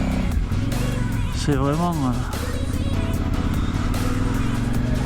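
A KTM motorcycle rides a trail in Portugal, its engine droning steadily with a rising and falling rev sweep partway through as someone speaks French over it.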